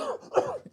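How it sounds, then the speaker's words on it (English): A single short, muffled cough lands close by in a podcast setting, quick and throaty. "You considered coughing into the mic on that one"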